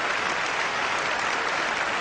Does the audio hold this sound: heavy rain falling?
no